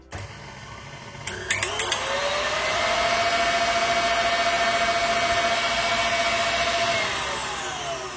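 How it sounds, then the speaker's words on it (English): An electric mixer whisks Baileys cream, a steady high whine that starts with a few clicks and holds level for about six seconds before winding down. Close and loud, with no voices. "I'm just gonna whisk this until we got a nice fluffy cream"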